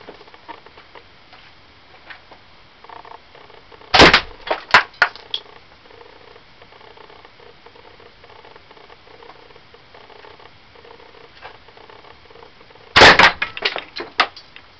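Slingshot shots at disposable lighters clamped in a workbench outdoors, two sharp loud impacts about nine seconds apart, each followed by a short scatter of smaller cracks and rattles over quiet background ticking.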